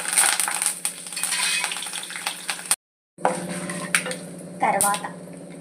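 Dry red chilies and curry leaves sizzle in hot oil while a bottle gourd curry is being tempered. A close, steady hiss breaks off into a short silence, then comes back with scattered clinks of a pan and utensils.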